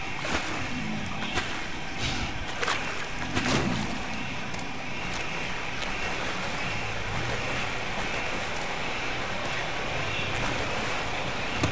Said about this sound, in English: this is where the waterfall is coming from